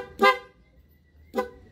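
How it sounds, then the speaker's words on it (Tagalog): A Yamaha Sniper 150 motorcycle horn, tested for hoarseness, gives two short, faint honks about a second apart with quiet pauses between. "Ang una nating susubukan yung kanyang busina."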